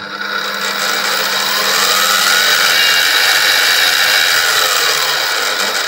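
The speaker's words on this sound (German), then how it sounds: "Und ihr hört auch, dass die Maschine ein bisschen lauter ist, die anderen sind leiser." Milling machine with a plastic gear between motor and spindle running steadily, a loud continuous whine and hum with a slight pitch rise, no talking.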